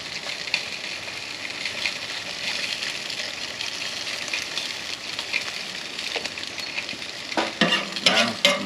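Eggs frying on a Camp Chef four burner griddle, a dense steady sizzle and crackle held close and fairly loud, with a few sharper scraping bursts toward the end and no voices.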